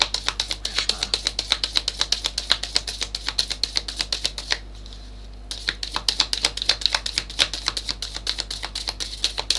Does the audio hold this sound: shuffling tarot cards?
yes